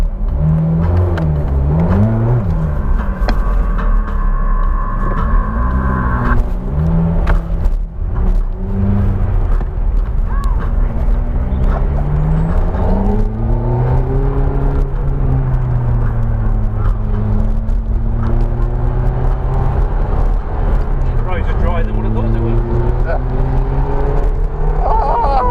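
A Ferrari F430 supercar engine pulls hard from inside the cabin, its note climbing and dropping repeatedly as it runs up through the gears. The roar is loud and sustained throughout.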